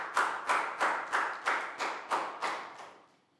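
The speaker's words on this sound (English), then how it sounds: "And big round of applause for everyone doing a great job," In a small room, one person gives a steady run of about nine crisp claps that fade at the end, applauding a Year 3 English class.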